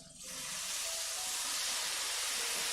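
Carrots sizzling in coconut oil with a splash of red wine vinegar in a pan, a sudden burst of loud, steady hissing sizzle that starts after a brief quiet moment and holds evenly, close up, no voices.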